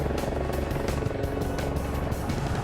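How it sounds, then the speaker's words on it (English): A helicopter's rotor beats the air in flight, giving a loud, rapid rhythmic chopping that pulses several times per second against a dense engine roar, with no voices. "helicopter doesn't fly. It beats the air into submission."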